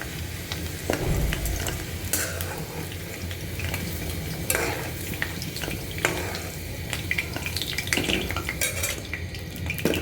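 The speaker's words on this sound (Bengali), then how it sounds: "তো এখানে আমার আলুটা প্রায় অনেকখানি ভাজা হয়ে গেছে।" Potatoes fry in hot oil in a pan, with a steady sizzle throughout and frequent stirring scrapes and clinks of a utensil against the cookware, close and without talk.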